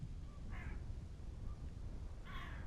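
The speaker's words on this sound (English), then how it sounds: "that low rumble has really dropped, and we can still hear those birds" Outdoor birds give two short, harsh crow-like calls about two seconds apart over a low background rumble from wind, recorded with the microphone turned away from the wind.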